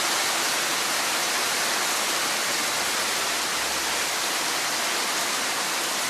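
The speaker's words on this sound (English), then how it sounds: "we have a lot of rain. A lot of rain. Water everywhere." Heavy rain pours down on a rainy Sunday outdoors, a dense, constant roaring hiss that stays loud and even for six seconds, with no voices.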